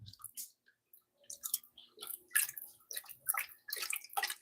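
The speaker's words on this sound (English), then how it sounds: "So I pour the water off the top." Water from a bowl of pottery clay slip pours off into another bowl in several wet, splashy bursts with gurgles and drips, close and fairly quiet, separated by short pauses.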